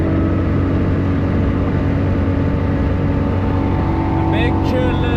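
A 1989 Mazda RX-7 FC S5 rotary engine cruising in fifth gear, a loud, steady in-car drone with a continuous hum and no change in pitch.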